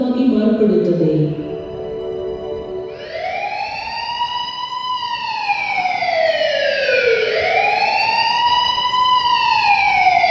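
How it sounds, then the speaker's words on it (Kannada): Ambulance siren wailing loud and close, its rising and falling tone sweeping in long smooth cycles after a brief low tonal passage at the start. "ಆಂಬ್ಯುಲೆನ್ಸ್ ಗಾಯಗೊಂಡ ವ್ಯಕ್ತಿಯನ್ನು ತಕ್ಷಣ ಆಸ್ಪತ್ರೆಗೆ ಕರೆದೊಯ್ಯುತ್ತದೆ"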